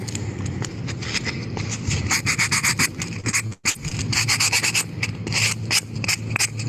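Rapid, rhythmic rasping strokes of sandpaper rubbing against wood by hand, close and steady, with a brief pause midway before the scrubbing resumes.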